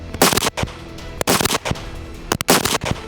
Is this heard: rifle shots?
yes